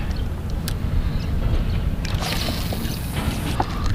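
Steady wind buffets the microphone on Lake Kurwongbah during a kayak fishing trip, a broad rushing roar with a few faint water slaps and knocks against the hull, no talking.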